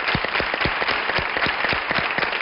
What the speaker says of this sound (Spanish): un aplauso ayuda